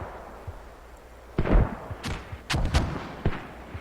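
Mortar rounds land on a habitation area in a competitive military video game match, several heavy booming impacts at irregular intervals, some close and loud, others more distant, with no talk over them.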